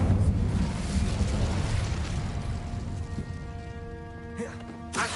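The Incendio fire spell cast in the video game Hogwarts Legacy, a loud, steady roaring rush of flame with rising tonal chimes toward the end.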